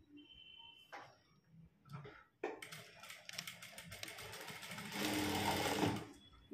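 A sewing machine stitching two cross-cut cloth pieces for thread piping, starting with a few short hesitant runs before settling into a fast continuous rattling whir that grows louder toward the end.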